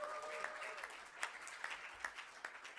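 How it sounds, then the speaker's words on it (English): Audience applause at an Australian film academy award presentation honoring a child actor, quiet and steady clapping with a few sharper claps standing out, fairly distant in the hall. "Round of applause for Sunny."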